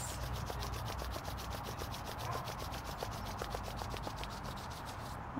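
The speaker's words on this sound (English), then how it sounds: "we're going to start by bringing our hands together," Two hands rubbed briskly together to warm them, a close, continuous dry friction with a fast back-and-forth rhythm lasting several seconds, alone without talk.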